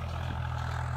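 A Swaraj 735 FE tractor pulls a 14-disc harrow through a field, its engine holding a steady, continuous low drone close by.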